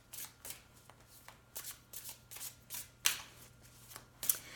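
A deck of Banksy-themed tarot cards is shuffled by hand in a soft, rhythmic series of papery riffles and flicks, close and quiet, with no talking.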